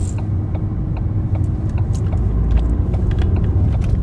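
Car engine rumbles steadily from inside the cabin as it pulls away through a large junction on a green light, a low continuous drone with small ticks and clicks over it.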